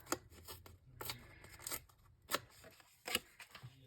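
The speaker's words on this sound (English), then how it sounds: "I'm just going to tear the bottoms." Bottom edges of paper sheets are torn by hand in several quick rips, each a short crisp burst with quiet gaps between, close up and with no talk.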